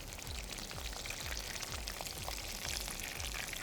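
Sliced eggplant (baingan) frying in hot oil for baingan masala: a dense, steady bubbling sizzle with faint spattering crackles, continuous and close throughout.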